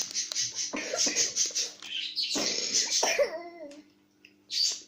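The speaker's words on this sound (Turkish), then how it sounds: "Sen de öksürüyorsun ben de öksürüyorum" A few close coughs in quick bursts, followed by a short quieter gap and then one more brief cough-like sound.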